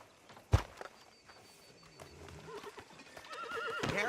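Horse in the Red Dead Redemption 2 video game: a sharp hoof knock early on, then clip-clopping steps and a whinny with snorts building toward the end, backed by low ambient game sound.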